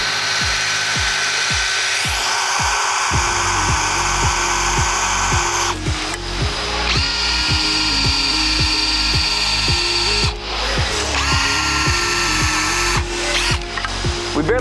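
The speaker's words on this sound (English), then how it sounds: "I'm gonna have to put a lot of force on pushing down to be able to cut through the material." A power drill fitted with a chamfering tool grinds into hard material under heavy downward force, a loud continuous whir with rhythmic pulsing chatter and brief pauses in pitch throughout.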